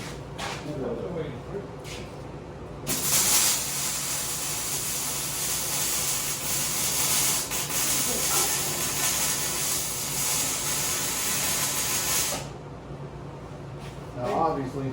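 Welding on the rear clip of a factory stock car build produces a steady, loud hiss that lasts about nine seconds. A voice is heard briefly before and after it.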